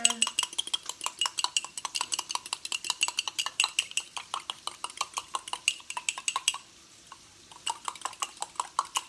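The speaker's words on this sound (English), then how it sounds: "then we're just going to give that a bit of a stir" Egg omelette mixture being stirred in a bowl, a quick regular run of utensil clicks against the bowl that pauses briefly and then resumes.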